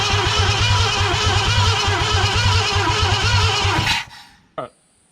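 A 1963.5 Ford Galaxie 500 hardtop with a 390 V8, first start attempt after sitting for 30 years, cranks and runs in a loud, steady, rumbling throb close by, then cuts off abruptly with one brief knock before silence.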